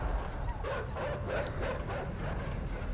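Dogs barking and yipping in a video game, a quick run of repeated barks and whimpers at moderate loudness over a low background rumble.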